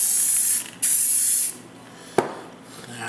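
Green Rust-Oleum spray paint hisses onto primed cardstock in two loud, close bursts separated by a short gap, followed by a sharp click and a quieter background.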